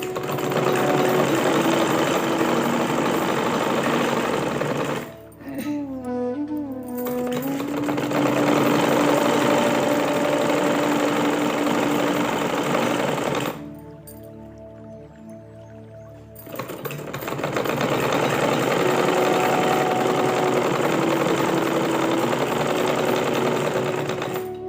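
A sewing machine stitching a pillow cover runs in long steady rattling stretches, close and loud, with two short pauses where it slows and stops before starting again.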